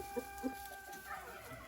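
A hen gives a couple of soft, short clucks close by against a quiet background.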